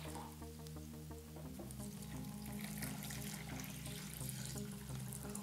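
Water poured into bowls for dyeing yarn with crepe paper, a steady, faint stream running continuously with a low hum in the background and no talking.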